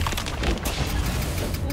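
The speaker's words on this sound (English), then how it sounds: "Please don't explode. Exploded. They exploded." Explosions in the video game Atlas Fallen go off as a dense, loud burst of booms and crackling blasts that fills the brief moment.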